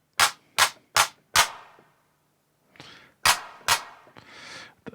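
Synthesized hand claps from a Behringer RD-8 drum machine: a quick run of four sharp, snappy claps, then softer noisy bursts and two more claps, loud and dry with brief airy tails.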